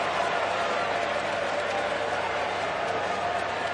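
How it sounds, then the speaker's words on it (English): A stadium crowd at an AFL match between the Sydney Swans and West Coast Eagles applauds steadily as a young player leaves the ground. It is a broad, even wash of clapping and cheering, and a commentator talks over it. "have a listen to this rapturous applause for this kid coming off the ground"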